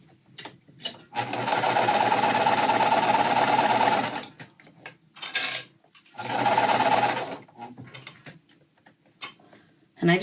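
Sewing machine stitching a quilt, two bursts of close, rapid mechanical whirring with quiet handling noises and short gaps between them.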